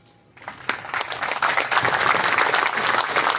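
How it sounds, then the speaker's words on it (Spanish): Audience applause for an economist's talk in Lambayeque, clapping that starts quietly and swells within a second into loud, dense, sustained applause from a full crowd. "Fuertes aplausos para el economista Limber Chero Tenmache."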